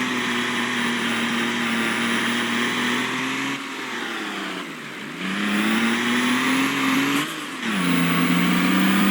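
A tractor engine in Farming Simulator 22 drones loudly and steadily, its pitch sagging twice as gears shift before it climbs again to a strained, continuous rev.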